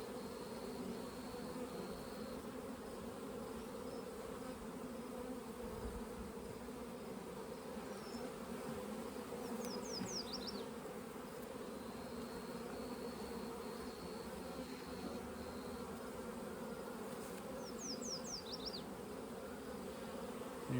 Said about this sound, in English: A mass of bees.